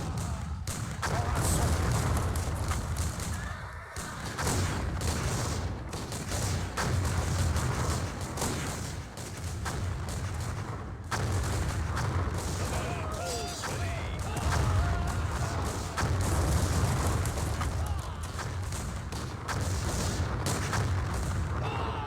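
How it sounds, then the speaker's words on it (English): Cannons boom repeatedly in a battle in the real-time strategy game Empire Earth, a dense, continuous barrage of deep blasts and crashes with battle noise throughout. "Oh my god, these cannons."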